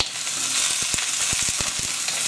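Courgettes, sweet corn, green beans, peppers and mushrooms sizzle loudly in a pan over high heat, with a steady hiss broken by sharp clacks of a utensil stirring.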